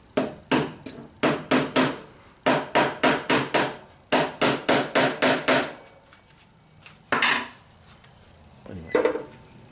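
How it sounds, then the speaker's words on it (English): A hammer drives a small nail into a wooden board on a table saw setup in quick bursts of sharp, close taps, several rapid blows per group with brief pauses, then two final isolated knocks; no talk. "I'm going to take this little nail here and nail it in and snip the end off."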